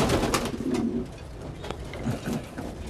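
French silver meat pigeons coo in a loft, soft repeated low throaty calls close by, with rustling and faint background noise.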